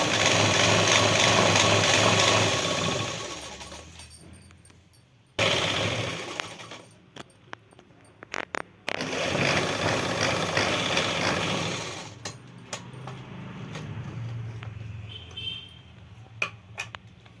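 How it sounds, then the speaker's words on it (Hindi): Sewing machine stitching the waistband of trousers, a rapid close mechanical whirring run that slows and stops, then starts again, with handling clicks in the pauses between stitching bursts. "अब ये देखो हमारा ये नेफा भी सिल चुका है"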